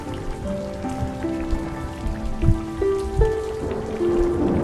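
Steady rainfall patters continuously beneath soft, sustained tonal music, with no voices.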